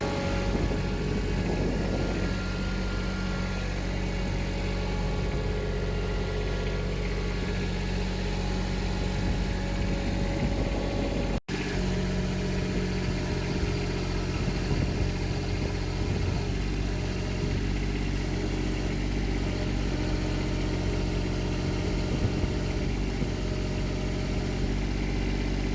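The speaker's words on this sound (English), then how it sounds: "You can see Josh out there on his tractor working away" A tractor engine runs steadily for the whole stretch while it works on newly owned rural property, with a constant low, even drone and no voices over it.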